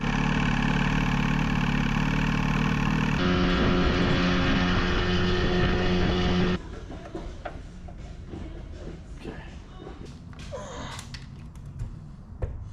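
An old Force outboard boat motor runs steadily, loud and close, with a harmonic drone that shifts pitch partway through before dropping to a rougher, quieter idle mixed with scattered knocks and clatter.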